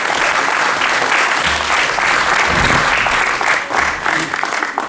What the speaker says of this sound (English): Round of applause to Ian